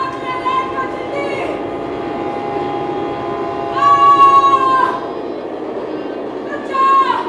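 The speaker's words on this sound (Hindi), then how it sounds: "रोक ले रेल को" Train sound effect in a stage play: a steady rumble of rolling carriages with two bursts of a shrill horn or whistle, one long and one shorter near the end, fairly loud and close.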